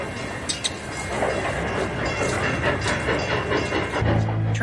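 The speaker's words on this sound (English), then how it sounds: "Train." A train rolls past on the railway with a steady, loud rumble, wheel clatter and hissing air that fill the whole clip. There is no talking.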